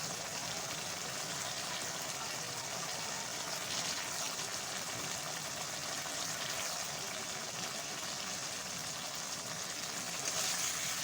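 Pointed gourds sauté in hot oil in a pan for a vegetarian mustard and poppy seed curry, giving a steady, soft, close sizzling hiss with no pauses and no voices.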